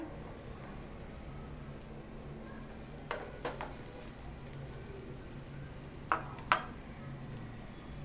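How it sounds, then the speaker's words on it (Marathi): Freshly grated coconut and jaggery cook in a hot pan over a low flame, a steady soft sizzle under occasional scraping stirs, with a few sharper clacks of the spoon near the end. "गॅस मंद ठेवून आहे ना आपण गुळ वितळेपर्यंत ना व्यवस्थित असं मिक्स करत राहूया"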